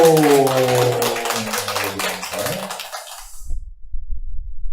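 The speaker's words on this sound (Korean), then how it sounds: "말씀 주신 주님께 박수로" A Korean church congregation claps together during a Sunday afternoon worship service, a short burst of applause over a fading sung or spoken tone, dying away into near silence with faint low rumble.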